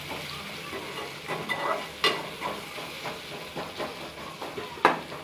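Tomatoes cook in a pan for egg masala, a soft sizzle broken by repeated scrapes and knocks of a spoon stirring against the pan, with one sharper clack near the end.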